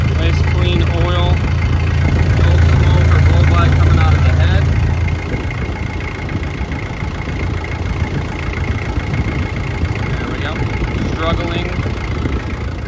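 A 1997 Isuzu Trooper's 3.1-litre diesel engine idling with the hood open, a steady low rumble that is loudest for the first five seconds. Someone talks over it.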